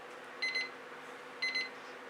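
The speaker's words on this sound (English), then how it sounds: "turn my timer off before I drive anyone else crazy" A kitchen timer alarm sounds in two short bursts of rapid high beeps about a second apart, moderately loud over a quiet room hum.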